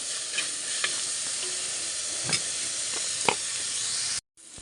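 Onions frying in a pan: an even, bright crackling sizzle with a few sharp spatters and utensil taps, nearby and continuous, then cutting off abruptly near the end; no talking.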